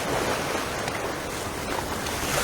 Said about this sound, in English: Just get away a little bit from this point where there's a build-up of sand and we're getting some breaking swells